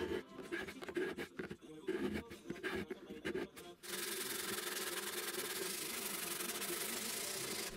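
Rhythmic scratchy strokes of sandpaper on a wooden bandsaw-box desk tidy, then a continuous, louder sanding hiss from a power sander that runs steadily to the end.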